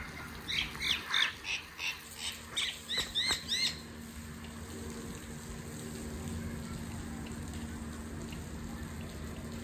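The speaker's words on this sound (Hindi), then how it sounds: "वो चिड़िया भी आ रही है माशाल्लाह" A small bird chirps in a quick series of sharp, bright calls for the first few seconds near a home courtyard, over low running-water background noise, then the calls stop and only the ambient hiss remains.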